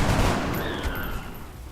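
Gunfire in XCOM Enemy Unknown, a dense loud burst of broadband shots with rumbling low end, continuous and close for under two seconds.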